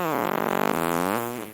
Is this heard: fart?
yes